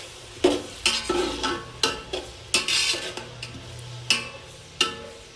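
Sliced onions fry in hot oil in a pan, with a steady soft sizzle beneath repeated sharp clinks and scrapes of a utensil stirring against the metal at an uneven rhythm.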